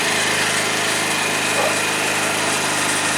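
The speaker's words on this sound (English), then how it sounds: "That starter sounds a whole lot better than what it did before." A 2012 Tao Tao scooter engine buzzes loudly and continuously after starter repair, a high, steady small-engine drone heard up close throughout.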